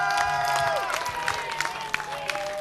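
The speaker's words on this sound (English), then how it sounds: "I want to hear a round of applause for all of you" Crowd at an NWA Wisconsin wrestling event applauds and cheers in a steady, moderately loud wash, with whistles or squeaks and scattered sharp claps poking through.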